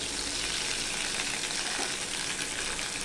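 A dried red chili crackles in hot oil, a steady, dense, close sizzle with no gaps and no voices.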